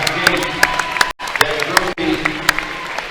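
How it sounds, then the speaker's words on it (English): A crowd in a gym at a high school basketball sectional game claps for a substitute player checking in, giving a dense, steady round of applause with sharp individual claps standing out, twice briefly cut off. "Harrison should get a nice round of applause"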